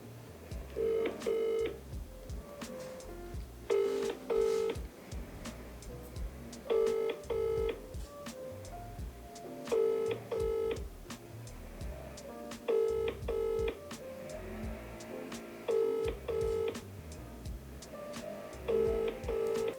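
A phone call to a grandmother: a telephone ringback tone repeats in even double pulses about every three seconds, moderately loud over faint background noise, with no talking.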